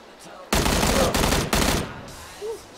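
Close, loud bursts of rapid automatic gunfire in PUBG, three dense volleys of about half a second each separated by brief gaps, then fading to quiet background.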